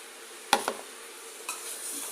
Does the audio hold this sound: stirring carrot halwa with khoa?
yes